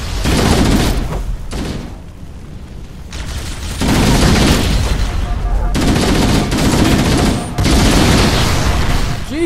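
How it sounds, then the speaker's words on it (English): Grenade blast and sustained gunfire in Halo Combat Evolved Anniversary co-op, loud continuous bursts of shooting with short pauses between barrages and heavy booming impacts, with no talk over them. "Grenade!"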